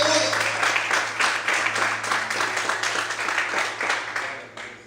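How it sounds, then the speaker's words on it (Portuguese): Congregation in a church clapping together, a full and sustained crowd applause that holds steady for several seconds and then tapers off toward the end. "Aplauda o Senhor, aleluia."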